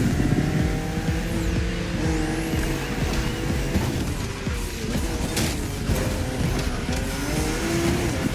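BMW M2 and M4 race cars racing in The Crew Motorfest video game: a steady, loud engine roar sustained throughout, with shifting revs and occasional tire squeal, and no talking.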